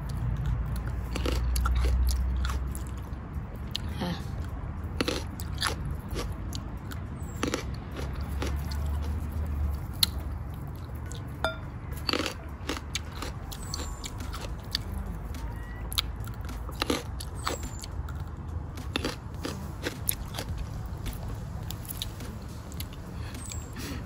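Close crunchy bites and steady chewing of fresh star gooseberries dipped in chili paste, repeated moist crunches over a faint outdoor background, with no talking.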